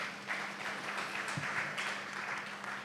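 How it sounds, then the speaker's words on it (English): Audience applause at a realty business talk on holiday homes and senior living, a moderate steady patter of clapping from a seated crowd, somewhat distant, over a low hum. "So please give him a round of applause."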